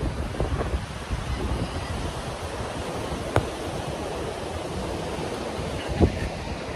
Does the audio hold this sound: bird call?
no